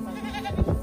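A goat, Anglo Nubian or Boer, gives a short close bleat, with a louder, lower burst near the end, alone without talk.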